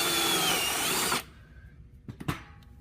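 A power drill whines steadily up close as it enlarges a hole in a Brew Boss brewing controller, then cuts off abruptly, followed by a couple of short clattering knocks.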